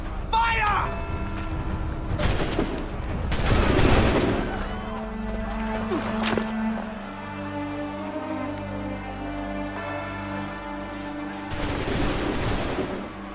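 A musket volley in Assassin's Creed III: several loud blasts ring out in bursts with crackling tails, separated by mechanical clatter and steady background hum, with voices speaking between the volleys.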